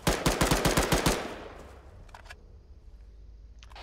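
Rapid burst of military video game gunfire, about eight sharp loud shots in quick rhythm, then a fainter distant rumble of a firefight with a couple of far-off pops.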